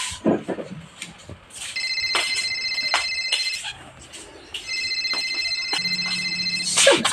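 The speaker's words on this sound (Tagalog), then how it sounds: "Tanawag ng cellphone nga niya eh." A cellphone rings with an electronic ringtone in two repeated bursts of high, bright tones, loud and close, with muffled room noise between rings.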